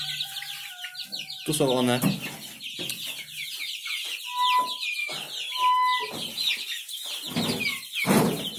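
Silkie chickens mixed with larger hens clucking in a coop, a busy chorus of close, repeated clucks and calls while someone speaks briefly over them.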